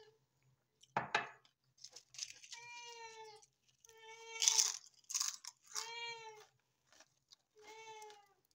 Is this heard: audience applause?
no